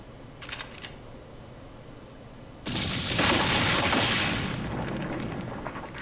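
A launcher fires in the video game Lifeline, opening with a sudden loud blast that rolls into a sustained roaring rumble for several seconds after a quiet lead-in with faint clicks.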